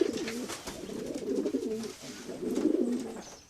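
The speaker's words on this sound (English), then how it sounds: "They put out the pigeon call." Pigeons coo in repeated low, throaty burbling phrases, close and fairly loud, with a brief pause between calls.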